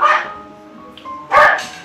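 A dog barks twice outdoors, loud and close, with a whimpering tonal whine trailing between the two sharp barks.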